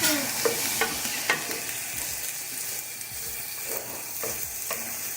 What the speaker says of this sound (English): So then we're just going to saute it, the onion and the celery.